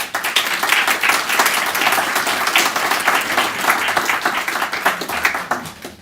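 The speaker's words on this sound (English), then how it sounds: "And everybody, please applaud them." An audience applauds scholarship recipients at a society event, a continuous, fairly close round of many hands clapping that holds steady for several seconds before tapering off.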